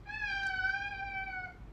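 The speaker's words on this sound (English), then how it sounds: "That's my cat's comment." A house cat gives a single drawn-out meow, clear and fairly close, tonal and slightly falling in pitch, lasting over a second with no talking.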